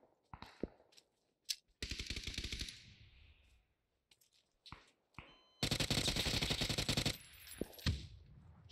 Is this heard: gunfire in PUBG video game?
yes